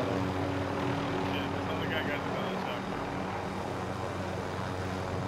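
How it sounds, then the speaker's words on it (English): A helicopter in a video game gives off a constant, loud rotor and engine drone, with players talking over it throughout. "Just having to, we got this chopper."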